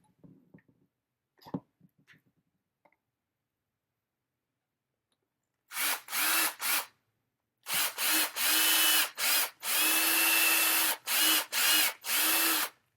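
After a few soft clicks and handling sounds, a power drill whines in a series of close, loud bursts, some short and one longer sustained run, enlarging an existing hole.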